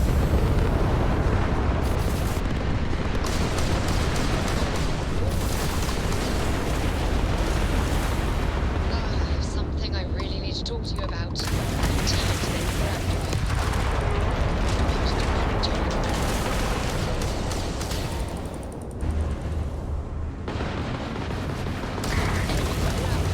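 A Freestar ship shoots during space combat in a video game: loud, continuous booming blasts and weapon fire pile up densely and keep going without letup, with occasional speech under the barrage.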